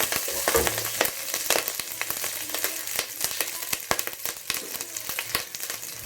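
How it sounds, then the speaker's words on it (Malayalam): Curry leaves and chopped small onions fry in hot oil with a dense, continuous crackling sizzle and sharp pops throughout, close and fairly loud with no talking. "കുറച്ച് കറിവേപ്പില ഇത്രയും ഇട്ട് കൊടുത്തു. നല്ലപോലെ ഒന്ന് മൂത്ത് വരണം."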